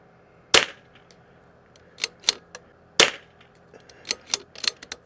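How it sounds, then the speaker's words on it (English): Two sharp .22LR rifle shots fired at 100 yards in light wind, each a loud crisp crack about two and a half seconds apart, followed by smaller clicks and clatter of the action between them. "we are now going to shoot at 100 yards"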